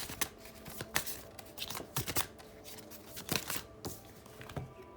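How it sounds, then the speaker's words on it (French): Tarot cards riffled and drawn by hand, a run of crisp papery slaps and flicks arriving in irregular bursts, close and fairly quiet, with no voices. "Je vais tirer d'autres cartes pour vous pour voir quel va être le résultat de tout ça"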